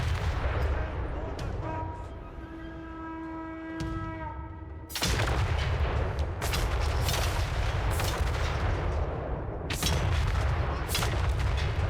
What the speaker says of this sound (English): Certainly a reason to have multiple Grand Cannons in your army. Effectiveness aside, just to hear that sound again and again.